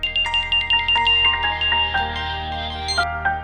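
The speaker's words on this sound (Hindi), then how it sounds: "नेहा से ही फोन करके पूछती हूँ" An outgoing phone call rings through, a repeating electronic ringback tone in quick pulsing bursts, clear and close, with no voices.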